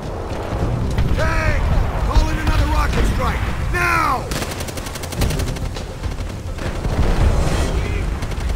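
Machine gun fire in Call of Duty: World at War rattles in rapid sustained bursts with heavy rumbling and clanking battle noise underneath, while voices shout over the din.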